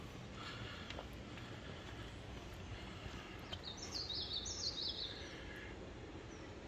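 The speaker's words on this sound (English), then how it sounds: "There are a lot of birds are chirping" Birds chirp faintly in the Vermont countryside by a small pond, with a short run of high twittering calls over a steady hushed outdoor background.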